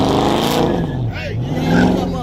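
A small-tire drag truck's engine revs loudly up close, its pitch sweeping up and down in a sustained roar.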